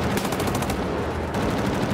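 An automatic gun fires in Wolfenstein: The New Order, a rapid rattle of loud shots in quick succession that pauses briefly before resuming.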